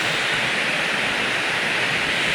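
Water rushes steadily over an old mill dam beside a stone bridge, a loud, continuous broadband roar with no breaks and no other sounds.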